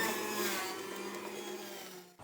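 A steady electric juicer whirring and grinding white pumpkin at close range, with a constant motor drone that cuts off abruptly near the end.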